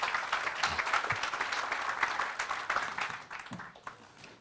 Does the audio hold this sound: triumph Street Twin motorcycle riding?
no